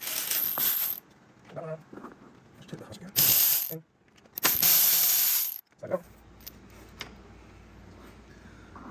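A hand ratchet clicks in a few quick bursts, close and loud, while 12 mm bolts are removed from the clutch slave cylinder of a Honda Civic Mugen Si, with metallic clanks and quiet gaps between the bursts.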